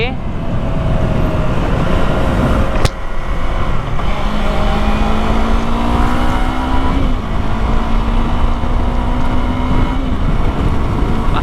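A Yamaha MT 15 V2 motorcycle engine runs smoothly and loudly throughout, its steady drone rising in pitch as the bike accelerates. The sound is close and continuous, with a brief knock near the start.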